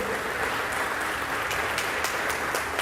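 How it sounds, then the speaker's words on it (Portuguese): A church congregation applauds during an evening service, producing a dense, even wash of clapping that holds steady and fairly loud throughout, with a few sharper claps on top. "Você pode aplaudir a Ele nessa noite."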